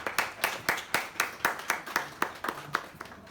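Audience applause welcoming a speaker to the stage at a talk, a steady run of sharp, regular claps at moderate loudness with no talking over them.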